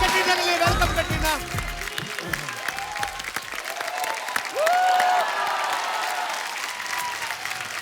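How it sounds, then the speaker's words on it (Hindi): Studio audience applauding and cheering as Katrina Kaif is welcomed onto The Kapil Sharma Show, steady clapping throughout with a host talking and music over it at the start. "जोरदार तालियां कैटरीना के लिए"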